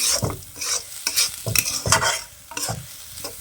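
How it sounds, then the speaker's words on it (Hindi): Jhangora millet and black soybeans are stirred and roasted together in a pan, giving repeated scraping strokes with a soft dry sizzle, close and fairly loud, with no talking. "अब भट्ट के साथ इन झंगोरों को भी अच्छे से मिक्स कर लेंगे और 1 से 2 मिनट तक भून लेंगे"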